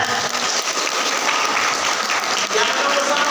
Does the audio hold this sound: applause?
yes